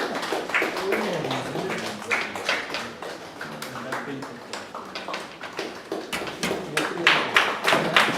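Audience applause continuing at a medical institute workshop as names are called out, steady claps and taps running the whole time beneath a voice announcing people.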